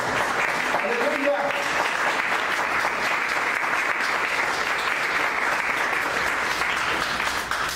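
Church congregation clapping as an offering to God, a continuous loud wash of hands with a voice briefly heard near the start, sustained evenly throughout.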